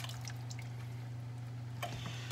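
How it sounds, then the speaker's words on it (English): A whole can of tomatoes and their juice is poured into a cooking pot, giving a brief liquid splash and slosh near the end over a steady low kitchen hum. "there's enough liquid in here, pour it right in."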